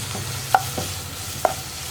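Vegetables and onions being stirred in a frying pan for chapati noodles, with two sharp spatula scrapes over a low steady sizzle.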